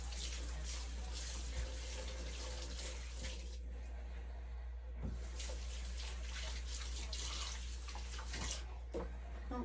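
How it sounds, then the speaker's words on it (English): Running tap water splashes steadily into a kitchen sink as hands are rinsed during baking, a continuous close hiss with small shifts as the hands move under the stream, briefly interrupted midway. "let me just wash my hands off."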